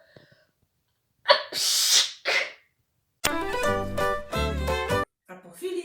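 A voice lets out two loud, theatrical sneezes, then sings a short melodic phrase before a final breathy burst.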